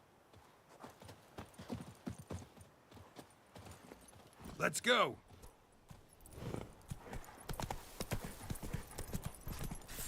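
A horse's hooves clip-clop steadily while riding in The Witcher 3, a quick regular rhythm of close, crisp hoof strikes with a brief whinny midway, under occasional talk from a player.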